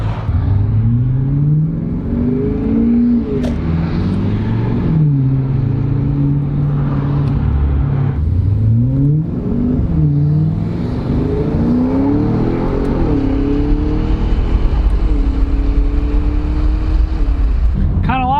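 A V8 Audi S6 with DSG paddle shifters pulls hard on the highway, its engine note climbing and dropping through several gear changes, loud and continuous, with wind and road roar under the drone.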